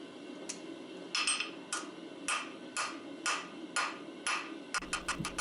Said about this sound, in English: This heat, I'm just continuing that drawing out and flattening process.